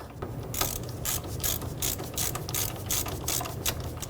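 A ratchet with a 15mm socket snugs the lower control arm bolts on a 2015-2020 GMC Yukon, giving a loud, steady run of close, rapid clicking strokes.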